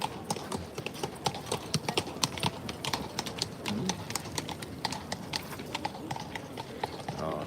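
Horse-drawn carriage on a Krakow street, hooves clip-clopping in a quick, steady rhythm close by, with sharp distinct hoof strikes over light background noise and a voice occasionally speaking.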